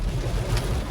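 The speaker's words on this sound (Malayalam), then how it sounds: "ഭയങ്കര മഴയാണ്." Heavy rain pours down on Kanjirappally town in Kottayam district, a steady, dense hiss filling the full second without a break.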